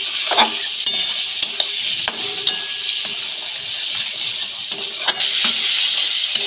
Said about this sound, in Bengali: জিরের গুঁড়ো, ধনের গুঁড়ো, লঙ্কার গুঁড়ো, হলুদ, কষিয়ে নেবো মশলাটাকে ভালো করে